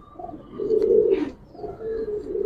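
Pigeons coo in soft, low, throaty bursts nearby, with faint rustling and shuffling of birds moving about in a loft.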